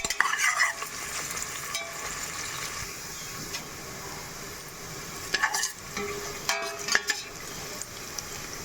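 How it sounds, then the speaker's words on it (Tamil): Sliced onions sauté in a pan until golden for mushroom rice, a continuous close sizzle with repeated scraping stirs of a spoon and occasional louder clatters against the pan, no voices present. "வெங்காயம் நல்லா பொன்னிறமாக வதங்கி வர்ற வரைக்கும் வதக்கிக்கலாம்"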